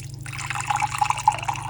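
Hot water from a water heater set to 180 pours into a vessel, giving a soft, close trickle with small bright drips and splashes, faint and steady over a low electrical hum.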